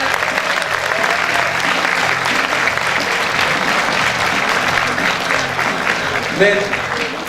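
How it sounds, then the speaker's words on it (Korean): Sustained, dense applause fills a hall at a youth members' rally of a Korean political party, a loud crowd clapping continuously with faint voices and a brief cheer near the end. "다시 한번 큰 박수를 부탁드리도록 하겠습니다"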